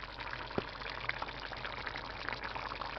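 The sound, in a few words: zucchini bolognese sauce bubbling in the pan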